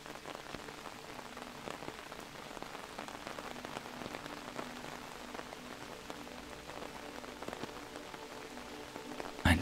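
Steady rain falls on the stone walls of an old windmill, a soft, even patter with scattered nearby drips and no voices, holding constant throughout.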